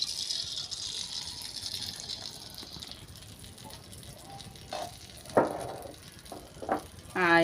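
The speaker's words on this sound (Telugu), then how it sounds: "కడాయిలో ఆయిల్ వేసుకుని స్టవ్ మీద పెట్టుకున్నాను." Oil heating in a kadai on a stove for chitti punugulu, a steady soft hiss with faint bubbling throughout and a few sharper crackles and clinks near the end.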